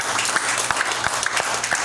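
Congregation clapping together in a church service, a dense, steady wash of hands with a few sharper individual claps standing out, loud and close, filling the whole moment without any talk.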